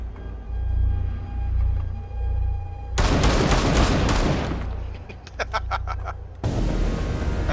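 Bursts of loud shotgun fire from Rainbow Six Siege, with dense blasts followed by a rapid series of sharp shots and another burst at the end, over a low game background rumble.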